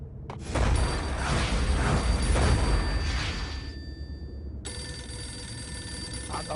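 A telephone rings in the Max Payne video game, a steady electronic ring over a loud rumbling swell of game sound that cuts away, then the ring carries on alone.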